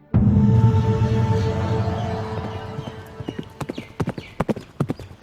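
A horse's hooves clip-clop in a fast, uneven run that follows a loud, sustained opening rumble, with sharp, close hoofbeats growing more prominent toward the end.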